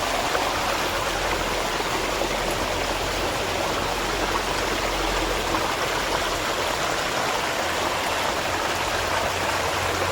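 Steady, full rushing of a river swollen by heavy monsoon rain in Konkan, flowing without pause, a dense broad roar close by, with no voices.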